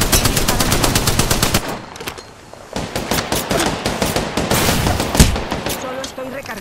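Video game gunfire aimed at the player: loud, rapid automatic bursts rattle close by, pause briefly around the two-second mark, then resume as a dense stream of shots with a heavier impact near the end.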